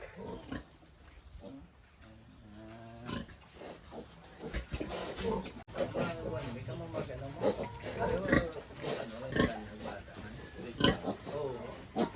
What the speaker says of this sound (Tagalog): Ito naman yung mga biik.